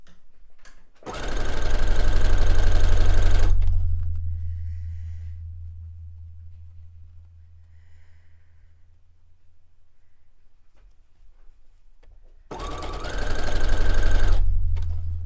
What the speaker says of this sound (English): let me scream at the microphone with my sewing machine here